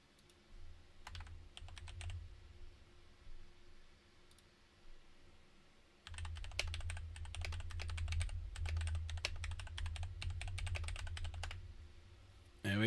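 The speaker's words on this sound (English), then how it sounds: "There we go. Typing away for everyone." Rapid, fairly close typing on a computer keyboard, bursts of clicks over a low background hum, sparse at first and then denser and steadier through the second half.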